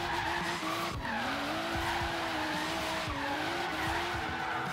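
In the racing game Forza Horizon 3, a car drifts with continuous, loud tire squeal that wavers in pitch over a steady engine roar, with a few brief thumps along the way.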